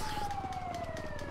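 Fire truck siren in the GTA V video game, a steady wailing tone slowly falling in pitch over a continuous engine-like rumble, moderately loud.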